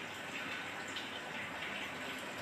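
Heavy rain pours down in a steady, even hiss with no breaks, fairly quiet and distant-sounding, with no voices present.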